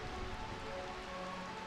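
Steady, soft rainfall over the ruined city of Burmecia in Final Fantasy IX, a continuous hiss of drops on surfaces under a faint tonal drone, with no one talking.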